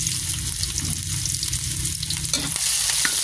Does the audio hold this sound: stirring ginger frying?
yes